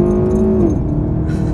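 An Alfa Romeo Giulietta Quadrifoglio engine drones loudly with induction noise from inside the cabin, a steady tone that drops away as the car eases off, continuous and close.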